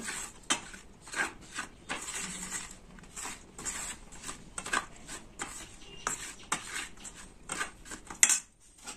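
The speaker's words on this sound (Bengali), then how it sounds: "এটাকেও ভালো করে মিশিয়ে নেব" A spoon scrapes and knocks against a bowl while flour is stirred into capsicum pakoda batter, a steady irregular clatter of close, quiet mixing strokes with no talking.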